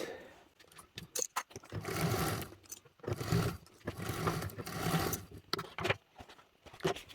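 Sewing machine stitching across an open bag seam on a Xaria Charm bag, in bursts of rapid whirring motor runs broken by short pauses and soft handling clicks, no voices.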